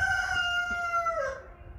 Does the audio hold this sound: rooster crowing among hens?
yes